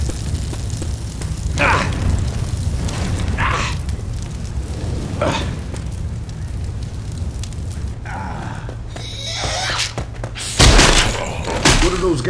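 Explosive frag rounds going off in Left 4 Dead 2, a few separate booming thumps spaced a couple of seconds apart over a steady low drone, then a louder blast near the end, with voices now and then.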